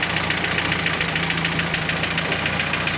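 A boosted Mitsubishi G23BK engine idling cold, with a steady fast ticking riding over the close, even engine drone throughout.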